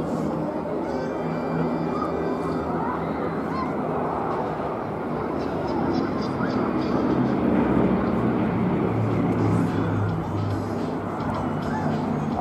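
A Bristol Blenheim WWII Royal Air Force light bomber flying, a steady droning engine roar held for the whole stretch without a break, fairly loud and even.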